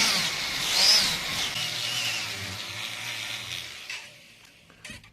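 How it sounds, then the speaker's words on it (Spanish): A rotary felt or cotton polishing wheel with green compound works a textured copper bracelet, giving a high, whirring whine that swells early, then tapers off toward the end, where a few light knocks follow. "Ahora vamos a pulir. Vamos a usar nuestra pasta verde y una felpa"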